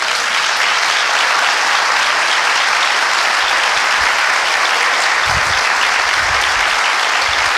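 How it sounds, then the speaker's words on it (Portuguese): A church congregation gives sustained loud applause, a dense wash of clapping that fills the whole stretch without pause. "Você pode dar um grande aplauso por isso?"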